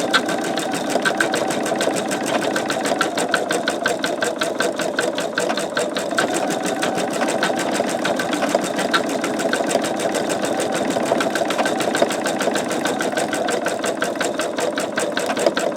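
Embroidery machine stitching out a sugar skull design with lavender flowers, producing a loud, fast, evenly pulsing needle chatter over a steady motor hum that runs unbroken throughout.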